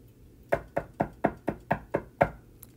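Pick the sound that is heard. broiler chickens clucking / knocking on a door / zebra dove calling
knocking on a door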